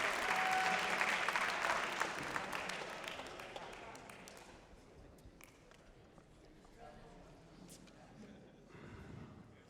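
Badminton crowd at a men's singles final applauding in a loud, dense burst that slowly thins to scattered clapping and murmur, with an announcer speaking over it.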